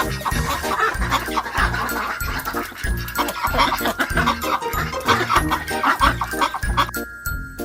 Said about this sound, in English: What sound does a duck make?